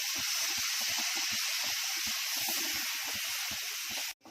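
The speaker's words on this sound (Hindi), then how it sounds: "इसको भी मैंने 2-3 मिनट भून दिए अच्छे से मसाले को।" Masala frying in a pan gives a continuous bright hiss with soft, rhythmic low thuds underneath. It holds steady at close range for about four seconds, then cuts off abruptly.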